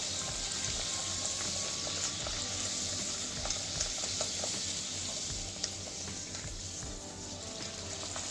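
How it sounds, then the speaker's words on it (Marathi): Pumpkin puris deep-frying in hot oil give a steady, soft bubbling sizzle with faint crackles throughout, fairly quiet and unbroken. "तळताना थोड्या लालसर तळायच्या।"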